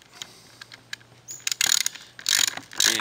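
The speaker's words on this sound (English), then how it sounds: "and we torque the t nut sleeve and the t nut together" A hand ratchet drives a 2-inch bolt to torque a T-nut sleeve and T-nut together during module construction, giving several bursts of quick, close mechanical clicking with short pauses between them.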